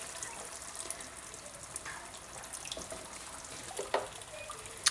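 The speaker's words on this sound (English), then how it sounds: "So I'm just going to slowly add a little bit of water to this." Water poured slowly into simmering chicken curry in a pot, a soft steady hiss and bubbling sizzle with a few small splashes and stirring clicks close by.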